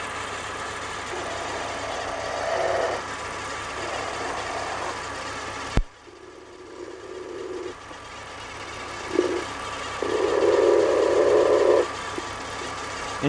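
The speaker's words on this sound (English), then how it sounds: "I can definitely hear a noise now from this pulley, and it's a different noise." A running engine's pulley heard up close, a steady mechanical drone with an abrupt clunk partway through, then a shifting whirr that rises and falls with an uneven, slightly noisy tone.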